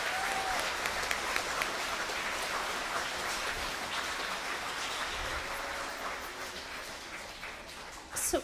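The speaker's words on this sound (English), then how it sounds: "can we give a round of applause to all those student performers?" Dense, steady applause from a gala audience for student performers at an arts awards event, rain-like in texture, continuing throughout and thinning slightly near the end.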